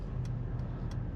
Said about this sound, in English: this car has active parking assist, which is currently in operation